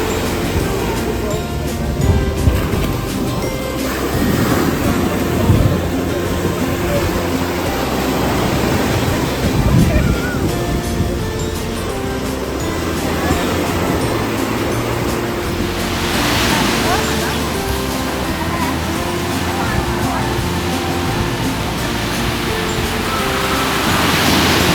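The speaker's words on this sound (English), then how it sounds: "we are walking to the beach. This one is called the Silver Beach." Surf washes onto Silver Beach on Koh Samui, Thailand, in a steady broad rush with swells of breaking waves and some wind, while people talk nearby.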